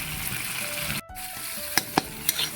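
Two eggs for a sardine omelette fry in a hot pan with a steady close sizzle, broken by a brief gap and a few sharp spatula clicks toward the end.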